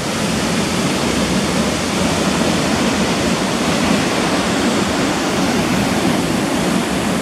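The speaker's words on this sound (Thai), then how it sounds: "น้ำตกเหี่ยวนรก" Haew Narok waterfall in Khao Yai National Park, roughly 60 metres high, roars as a steady, loud and unbroken wash of falling water, with strong wind around it and no voices.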